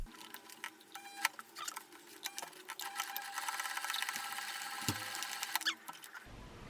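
Sewing machine stitching the pinched corners of a fabric handbag, a steady close mechanical whir with rapid needle clatter that speeds up midway, then stops abruptly near the end; no voices.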